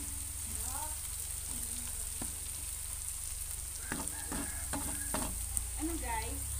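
Garlic sizzles in hot oil and is stirred for a mussel chili paste, with a constant frying crackle and scraping stirs of the spoon against the pan, fairly close, and no voices.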